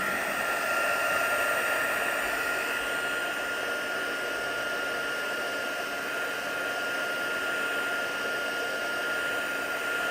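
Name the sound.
heat gun drying watercolour painting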